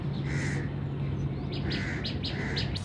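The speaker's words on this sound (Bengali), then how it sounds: "তো এবার পাখিগুলো সব বেরোচ্ছে আস্তে আস্তে" Birds call and chirp in short bursts in the cool early morning over a steady low hum of background noise, with a few harsher calls among them, at a moderate distance.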